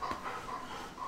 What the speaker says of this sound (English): Good dog. That's a good dog.